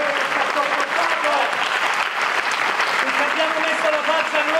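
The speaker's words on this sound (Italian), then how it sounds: "facciamo un applauso" A theatre audience applauds with dense, steady clapping for the whole stretch, and voices carry over the top of it.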